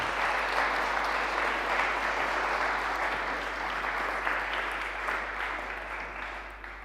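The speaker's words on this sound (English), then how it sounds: "Let's give him a warm round of applause." Steady audience applause fills a hall after a talk, a dense wash of many clapping hands that stays fairly even, easing slightly toward the end, with a low constant hum underneath.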